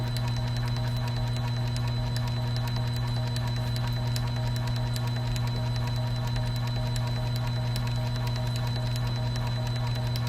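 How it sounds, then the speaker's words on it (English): A brine pump hums at a steady, mechanical drone with a low tonal whir and faint rapid ticking, continuous and close for the whole stretch with no talk. "then the pump will begin adjusting to get to the right speed"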